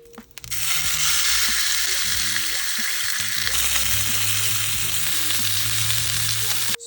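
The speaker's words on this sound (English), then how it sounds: "once the oil is nice and hot, I'm just going to add in the steak" Steak hits hot oil with a sudden loud hiss that settles into a dense, continuous sizzle, close and unbroken, with faint scraping and crackles underneath.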